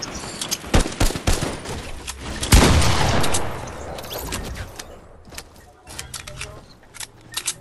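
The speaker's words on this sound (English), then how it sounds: "let me get this assault rifle kill" Assault rifle fire in a video game: loud, close bursts of rapid shots, a heavy blast in the middle, then scattered single cracks, with a player talking in between.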